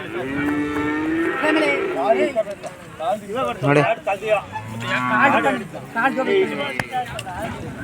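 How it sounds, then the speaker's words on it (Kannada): Crossbred calves mooing at a livestock calf show, several loud, close moos in a row over crowd chatter, with people talking nearby. "ಎಲ್ಲ ಕರುಗಳೇ ಎಲ್ಲ ಪಡ್ಡೆಗಳೇ"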